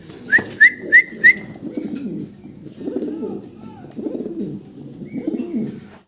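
Fancy pigeons, a pair with a squab, coo in a low, repeated rolling rhythm. A few sharp, high whistles come first, then the cooing carries on close by at moderate loudness.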